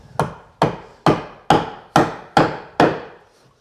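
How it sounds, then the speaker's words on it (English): A chisel chops a mortise slot into a round wooden leg, seven sharp, evenly spaced mallet-driven strikes landing close and loud, each ringing briefly before decaying. "you can get a good chop on it"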